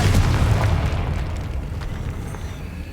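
A Confringo spell explosion in the Hogwarts Legacy video game bursts with a heavy booming blast up front, then decays into a rumbling, crackling tail.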